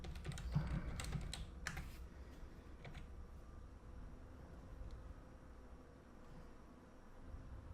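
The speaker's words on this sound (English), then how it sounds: "I'm going to type in my login real quick." Fingers type a login on a computer keyboard, a quick burst of close, crisp clicks in the first two seconds and then scattered keystrokes over a steady low hum.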